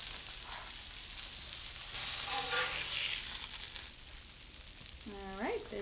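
Blackened catfish fillets sizzle steadily on a hot griddle, a continuous close frying hiss with brief scraping and a faint voice near the end.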